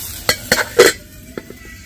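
A lid and ladle clink against a pan while rice-flour chitoi pitha steams, several sharp metallic knocks close by, followed by a few lighter taps over a soft background hiss.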